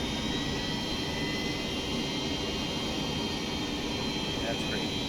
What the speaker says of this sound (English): we'll flip them to idle and the engine will start.